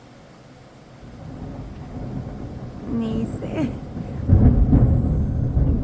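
A thunder sound effect with rain, a low rumble building through the clip into a louder rolling crash near the end, with a voice speaking briefly partway.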